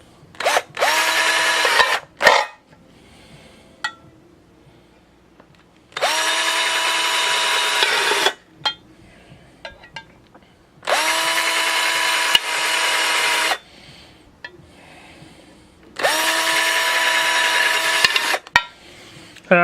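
A power drill bores holes in metal for a DIY one-quart gasifier wood stove, sounding as four loud, sustained whining bursts separated by short pauses, with faint clatter between them.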